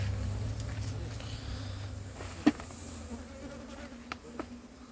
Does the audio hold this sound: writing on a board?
no